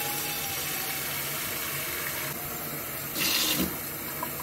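Water runs steadily from a kitchen tap into a pot, a continuous close rushing stream that swells briefly louder near the end.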